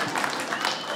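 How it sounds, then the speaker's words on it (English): A comedy club audience claps together during a stand-up set, a dense, steady patter of many hands close and loud for about a second with no voices over it. "clap if you are a little untidy"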